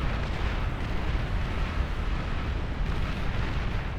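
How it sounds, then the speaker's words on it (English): Nuclear missiles detonate in the strategy video game Beyond All Reason, a dense, continuous explosive roar with a heavy low rumble that stays loud and unbroken throughout. "I think I just heard the nukes."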